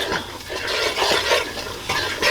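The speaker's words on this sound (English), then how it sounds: "You gotta roast the curry." Curry powder roasting in a hot pan for Trinidad-style curry shrimp, a loud close sizzle with rhythmic scraping strokes of a spoon stirring, alone without talk.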